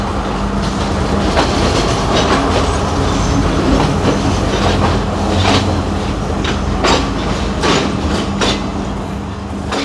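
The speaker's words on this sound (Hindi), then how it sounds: "सामने से ट्रेन आई और उसके निकलते ही हमने भी अपना सफ़र" A passenger train in Sri Lanka rumbles along the rails with steady clickety-clack and a low droning roll, loud and close, continuous throughout.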